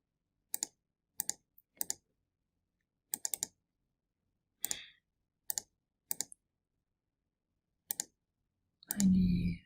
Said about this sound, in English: So let's type in the data.